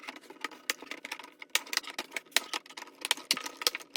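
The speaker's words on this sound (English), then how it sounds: "You're going to hear a clicking sound, and that helps you know it's locked in." Plastic advent calendar pieces snap and lock into place, a quiet, irregular series of light clicks and taps close by.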